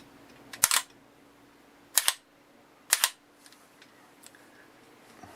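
Mantis Blackbeard training device firing as a gun trigger is squeezed: three sharp, loud snapping clicks spaced about a second apart, each with a short mechanical rattle, then a few faint ticks.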